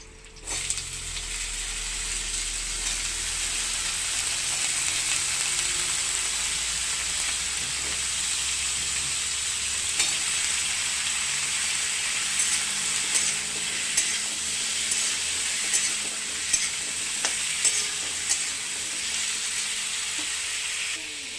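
Potatoes and chickpeas fry, sizzling and crackling steadily in a hot pan, a continuous bright hiss with occasional pops and light stirring scrapes, close by with no talking.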